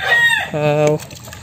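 A pure white hatch gamefowl rooster crows once, loud and close, its call rising then holding on a strong harmonic tone before breaking off, with no other sounds around it.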